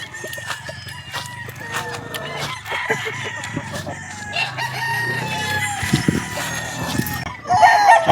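Kelso gamefowl rooster, an elevator Kelso at a gamefarm, crowing loudly nearby, with clucking and other birds in the background.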